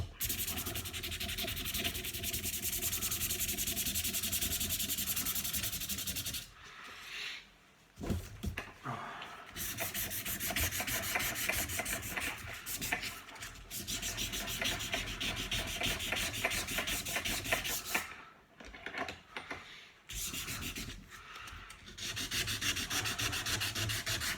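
Coarse sandpaper rubs vigorously against the metal head of a golf iron, a loud continuous rasping scrape in long strokes, broken by two short pauses.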